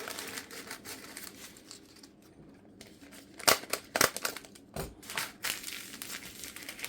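Scissors snipping through parchment paper while cutting out a circle to fit a dehydrator tray, giving several close, crisp crinkling cuts in irregular bursts over a soft rustling background.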